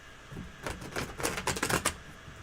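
Tarot cards are shuffled at close range in a rapid series of crisp riffling flicks and slaps, bunched into a busy burst lasting around a second and a half.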